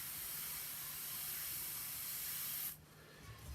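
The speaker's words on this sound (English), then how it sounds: "so that I can stand up to spray. All right. So every time I airbrush, I do it the same way." Airbrush spraying paint, a loud, steady close hiss that cuts off abruptly, leaving only a faint background.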